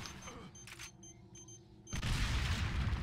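A dynamite blast in Resident Evil 4 (2005) erupts suddenly as a loud, broad roar that holds steady to the end, after a quieter stretch of game ambience with faint tones and a few light thuds.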